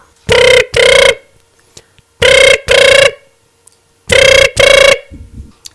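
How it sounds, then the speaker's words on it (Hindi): A telephone rings in three pairs of loud, buzzy double-rings with short pauses between each pair, heard clearly and alone after a call is placed. "एक बेर फोन लगबै छियै"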